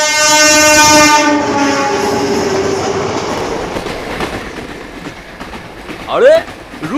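A cartoon train sounds a long horn at the start, then runs on with rumbling clickety-clack wheel noise that slowly fades, and a short vocal sound enters near the end.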